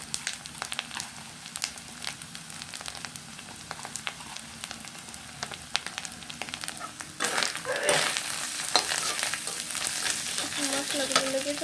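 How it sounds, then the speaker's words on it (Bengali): Spices crackle and sizzle in hot oil for a desi chicken curry while a spoon stirs and scrapes the pan, a steady close sizzle that swells louder partway through. "মশলার যাতে চলে যায় ভালোভাবে, সেজন্য আমি তেলের সাথে নেড়ে চেড়ে মিশিয়ে নেব"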